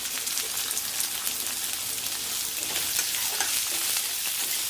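Onions sizzle and crackle steadily in a hot pan of oil, a close, busy frying hiss with no voices.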